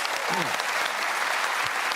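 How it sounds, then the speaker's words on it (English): Studio audience applauding on a TV comedy panel show, a steady dense wash of clapping throughout with a brief whistle-like vocal sweep near the start. "Round of applause for Anita"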